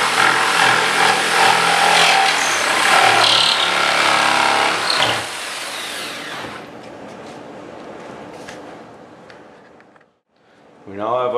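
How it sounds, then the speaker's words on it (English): A reciprocating saw cuts a circle out of a whitetail horn panel, a loud, harsh, buzzing rasp for about six seconds that then drops to quieter rattling and a brief pause. "Hoping we can cut a good circle with a sawzall."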